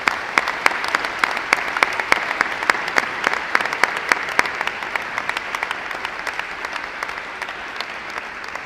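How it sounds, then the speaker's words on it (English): A high school signing day crowd applauds student athletes. Crisp individual claps punctuate a steady patter that gradually thins and softens toward the end. "Let's give one more round of applause to all our student athletes."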